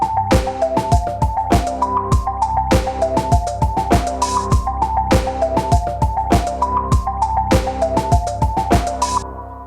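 A randomly programmed melody from the Logic Pro step sequencer plays as a steady run of short, bright synth notes, hopping between pitches in an even rhythm over a sustained low bass. It is loud and continuous, with no voices.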